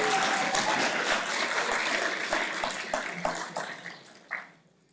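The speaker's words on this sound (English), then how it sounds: "Please give him a round of applause for that." Audience applause at a panel session of the AdventureX event, a dense patter of many hands clapping that holds steady, then thins out and fades near the end, with a few louder claps toward the close.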